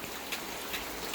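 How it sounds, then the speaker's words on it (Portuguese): Steady rain falls outside a home in a soft, even hiss with a few slightly louder patters, quiet and continuous with no talking. "E a chuva não para."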